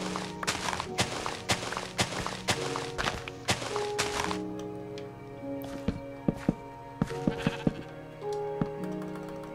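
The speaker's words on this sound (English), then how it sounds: "get out of here, sheep. Ruining the video." Sheep in the video game Minecraft bleat repeatedly in clear, wavering tones, mixed with sharp thunks and blocky footstep sounds in a rapid, uneven sequence.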